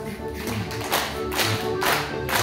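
Square dancers clap along to music during a swing-your-partner call, rhythmic hand claps landing in regular beats over a steady musical backing, fairly close and moderately loud.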